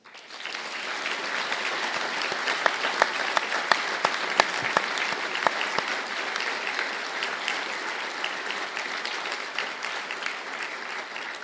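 Sustained applause from a large audience at a university graduation ceremony, a dense steady clatter of clapping that continues throughout without talk.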